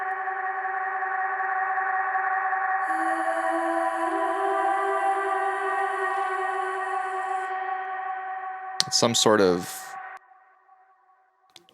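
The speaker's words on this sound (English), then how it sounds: "tape echo with spring verb on it." Tape echo with spring reverb on an instrumental track, a sustained wash of layered, smeared tones that holds steady, then a burst of repeating, decaying echoes near the end; faint speech briefly underneath.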